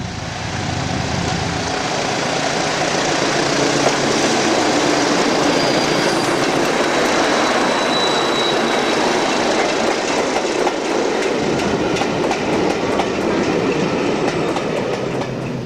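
Class 73 locomotives 73133 and 73129 pass on a railway near Somerset with a loud, sustained roar, rumble and wheel clatter close by, continuing unbroken throughout with light rhythmic clicks toward the end.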